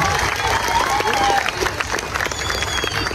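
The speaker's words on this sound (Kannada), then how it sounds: "ಅವರಿಗಾಗಿ ಒಂದು ಜೋರಾಗಿರುವಂತ ಚಪ್ಪಾಳೆ ನಾವೆಲ್ಲರೂ ತಟ್ಟೋಣ" A crowd at an outdoor Ganesh immersion procession in Raichur claps loudly and steadily for soldiers, with dense sustained applause and a background murmur of voices.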